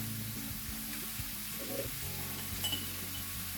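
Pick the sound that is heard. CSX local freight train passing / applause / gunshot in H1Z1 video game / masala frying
masala frying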